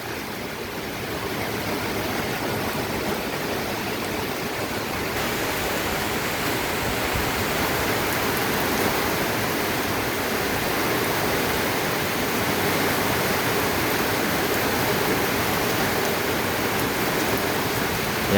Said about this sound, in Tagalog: oh, malakas ang ulan.